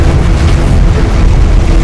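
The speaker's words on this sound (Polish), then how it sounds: "Nastąpił wybuch." A loud, sustained explosion rumble in the first-person shooter F.E.A.R. Perseus Mandate, a dense continuous roar of low boom filling the whole moment with no voices.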